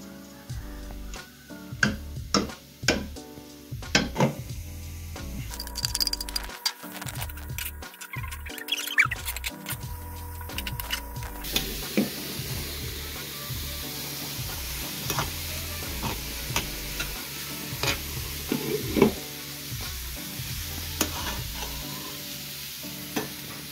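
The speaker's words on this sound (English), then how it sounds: "And then you stir them in." Potatoes and carrots are stirred into a sizzling pot, with a steady fry hiss under repeated scraping and clattering strokes of a utensil against the pot, close up and with no voices.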